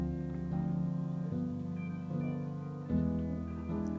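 Acoustic piano playing sustained chords that change every second or so, resonant and ringing with a soft, close, steady level and no voices.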